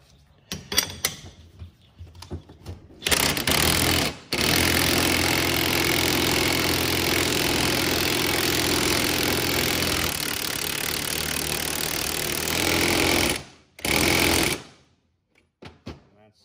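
A power tool drives a fastener down on an ATV bearing removal and installation tool, with a steady, loud mechanical whir running for about nine seconds between shorter bursts, then stopping abruptly.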